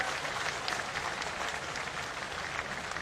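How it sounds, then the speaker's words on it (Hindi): Dense, steady applause from an audience welcoming their department head at a Satkar 2023 honouring ceremony in Jaipur, a continuous wash of many hands clapping at even loudness for about three seconds, with no voices over it. "जोरदार तालियों से स्वागत करें, अभिनंदन करें"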